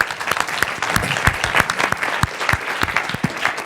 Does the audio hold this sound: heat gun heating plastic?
no